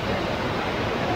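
Kallathigiri Hill waterfall in Chikmagalur roars as a loud, steady, close wash of falling water with no break.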